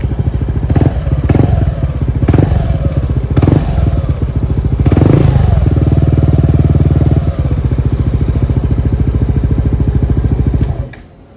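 A motorcycle fitted with an aftermarket Villan exhaust idles with a deep, throbbing exhaust note, then gets several short blips of the throttle and one longer rev before settling and cutting off.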